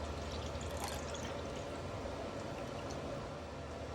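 Oat milk pours in a continuous, steady stream into a cooking pot. The close, smooth liquid rush lasts a few seconds without pause.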